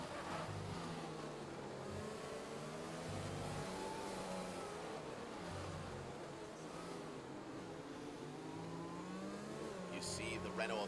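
Racing cars including a Renault in an Xbox racing league game at the Mexican Grand Prix, a continuous engine roar with shifting revs under steady commentary.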